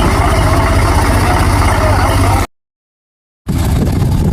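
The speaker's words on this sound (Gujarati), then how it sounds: "જો આવી રહ્યું છે ભાઈ ભરાઈ ગયું ટ્રેક્ટર અને ગાડીમાંથી આવે છે ફૂલ પાણીમાં" A tractor loaded with sugarcane drives through deep water with a loud, steady, low engine rumble close by. The sound cuts to a second of silence and then resumes.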